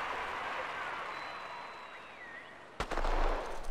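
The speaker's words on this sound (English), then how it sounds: "Away they go, and the crowd really trying to get behind the athlete." In the Athens 2004 video game, a sharp starting shot sets off a loud, sustained roar of crowd cheering at the start of an 800 meters race, following a stretch of lower ambient crowd noise.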